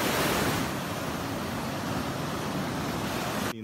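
Ocean surf breaks steadily at Lagoinha do Leste beach, a broad continuous roar of waves with some wind rumble, loud and close, cutting off abruptly at the end.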